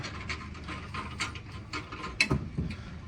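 Steel tow hitch bolts being loosened by hand on a vehicle during a hitch installation give off light metallic clicks, scrapes and clinks close by, with a couple of louder knocks near the end and no voices.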